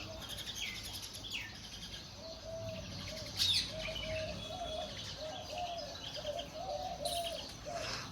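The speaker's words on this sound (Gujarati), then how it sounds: "બ્યુટીફુલ મોર્નિંગ સ્ટાર્ટ થઈ ગઈ છે પક્ષીઓના અવાજ સાથે." Morning birdsong outdoors, faint and distant: scattered chirps and tweets with a soft, repeated cooing call like a dove or pigeon, over quiet background hiss.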